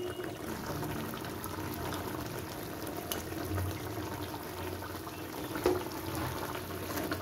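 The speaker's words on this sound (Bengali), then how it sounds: "দেখুন মাছগুলো কি সুন্দর ফুটছে।" Pabda fish simmering in a mustard, poppy-seed and sesame paste gravy bubble with a low, steady burble and faint sizzle, with an occasional louder pop.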